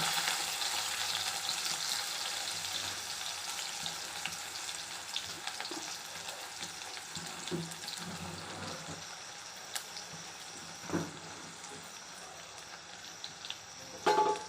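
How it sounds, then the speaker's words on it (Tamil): Small shallots fry in hot oil after mustard seeds have spluttered, a steady close sizzle running throughout with occasional stirring clinks and scrapes of a spoon in the pan. "கடுகு பொரிஞ்சிட்டு சின்ன வெங்காயம் வச்சுக்கிறது"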